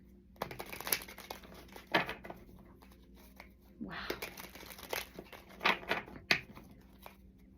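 Cards crinkle and riffle in short bursts of shuffling, close by, with a brief exclamation from a voice among the crisp papery flutters.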